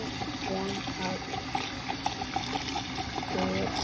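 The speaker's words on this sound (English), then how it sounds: "So we're rinsing them off right now." Hot running water rinsing cleaned wands, a steady splashing, trickling flow heard close with faint voices and handling noises underneath.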